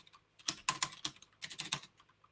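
Typing on a computer keyboard, two short bursts of quick key clicks separated by a brief pause, close and fairly clear with no talking.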